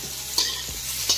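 Food frying in oil in a pan with a little salt, a soft steady sizzle underneath two light scraping stirs of a spoon against the pan, close up and without speech.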